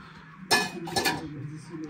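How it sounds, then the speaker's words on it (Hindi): Dishes being washed: pots and cutlery clink and clatter in two close bursts over running background noise, with voices faintly present. "यहाँ पे बर्तन धो रहा है"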